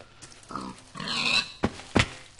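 A pig in the Minecraft video game oinks several times in quick succession, close and clear, with short grunting calls ending in two sharp bursts.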